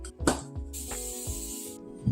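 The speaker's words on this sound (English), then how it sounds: "now that you have your loaf pan, you're going to spray it with some oil" Cooking oil is sprayed into a loaf pan in one steady hiss lasting about a second, close and clear over a low background hum, with a few light knocks around it.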